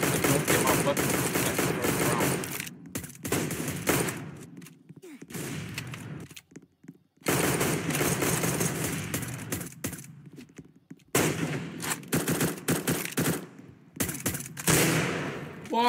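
Rapid automatic gunfire bursts from the video game CSGO, loud and repeated, in several long volleys broken by short silent gaps, with a voice talking between some shots.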